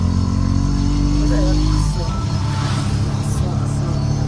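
An auto rickshaw carries a family along a road, its engine droning loudly and steadily from close by throughout the ride.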